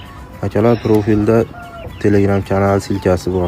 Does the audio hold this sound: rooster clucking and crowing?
yes